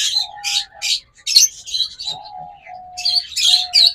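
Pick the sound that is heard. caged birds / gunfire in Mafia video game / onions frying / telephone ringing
caged birds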